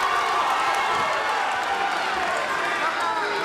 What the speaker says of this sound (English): Crowd very much behind Houston Alexander